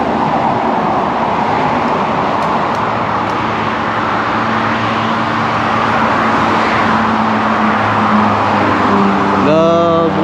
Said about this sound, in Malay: di bawah sana kedengaran bunyi kenderaan lalu lintas